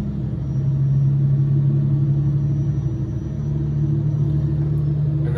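Truck engine in the American Truck Simulator game picking up speed on cruise control, a steady low rumbling drone with a gently rising hum, loud and continuous with no speech.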